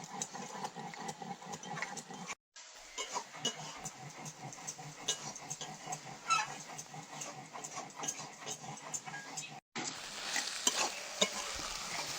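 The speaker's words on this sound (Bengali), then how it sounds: "এবার এর মধ্যে জিরে বাটা দিয়ে দেবো।" Cumin paste is stirred into parshe fish curry frying in oil, a steady close sizzle under a rhythmic scraping of the spoon against the pan that continues throughout, with a couple of brief dropouts.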